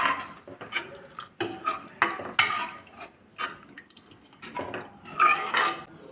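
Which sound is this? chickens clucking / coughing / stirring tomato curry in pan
stirring tomato curry in pan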